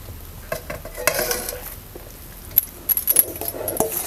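Grated pumpkin tipped into a wok on a wood-fired stove, giving scattered metallic clinks, scraping and soft sizzling in irregular bursts, fairly quiet overall.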